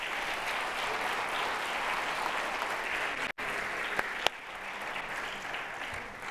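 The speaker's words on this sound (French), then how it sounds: "on peut les applaudir" An audience at a neuroscience talk evening on sport applauds the panel speakers, with sustained, even clapping broken by a brief dropout and a couple of sharp clicks.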